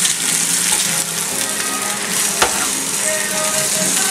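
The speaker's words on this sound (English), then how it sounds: "We're gonna cook the eggs." Eggs sizzle and crackle loudly in a hot pan for chilaquiles while being stirred, a dense continuous frying hiss with a sharp scrape of the utensil midway and no speech.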